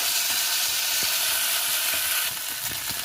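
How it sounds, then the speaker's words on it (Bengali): Ground cumin paste fries in hot oil as it is stirred in a pan for a mung dal with fish head. A loud, steady sizzle and hiss runs throughout with light scraping stirs, and no one speaks. "এবার আমি দিয়ে দেব আগে থেকে বেটে রাখা জিরা এবং ভালো করে তেলের সঙ্গে কষিয়ে নেব।"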